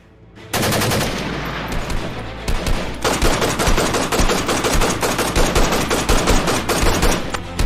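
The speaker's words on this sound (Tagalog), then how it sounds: "Agad siyang nagpaputok ng baril sa rebeldeng grupo na nakakasagupan nila." Heavy machine-gun fire in an action horror story, rapid sustained bursts of loud gunshots that start abruptly, pause briefly, then continue in a dense, relentless rattle with no voices.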